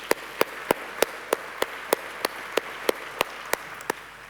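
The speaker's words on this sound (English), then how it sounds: "please, a round of applause." Sparse, single sharp claps ring out at a steady beat of roughly three per second, like one or two audience members clapping politely at a conference, with a faint room hiss and no talk.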